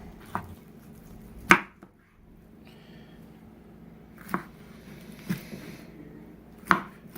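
A knife slices through cooked ribs on a board, making a few sharp, separate chopping thuds spaced apart against a quiet background.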